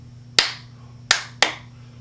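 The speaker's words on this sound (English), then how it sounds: "for the first part of the song, we're going to clap our hands like this" Three sharp hand claps, close and fairly loud: one alone, then a quick pair after a short gap, with a steady low hum underneath.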